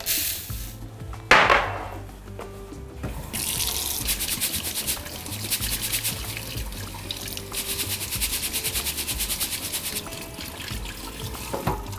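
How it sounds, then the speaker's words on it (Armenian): Rice being rinsed under a running kitchen tap, with a steady broadband splash of flowing water into a sink, a sharp clatter near the start and continuous watery noise to the end. "բրինձը, լավ լվանում ենք հոսող ջրի տակ։"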